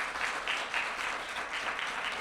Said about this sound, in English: If you can give everybody a round of applause, I think that was wonderful.